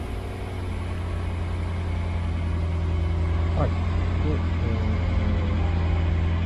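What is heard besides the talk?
automatic car engine starting and idling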